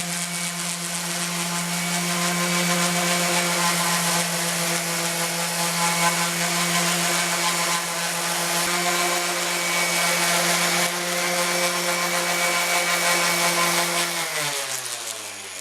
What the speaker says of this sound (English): A little bit of sanding with 80 grit.